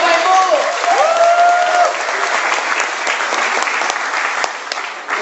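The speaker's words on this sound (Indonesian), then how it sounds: "beri aplaus buat Anda" Steady audience applause at a presentation in Jakarta, a dense wash of clapping held for several seconds with a presenter's voice briefly rising over it near the start.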